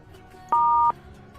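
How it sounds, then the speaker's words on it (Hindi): A single short telephone keypad tone, like a hash key press during a phone call, sounds clearly for under half a second over a quiet line. "तो बीप के बाद हैश दबाए। बीप।"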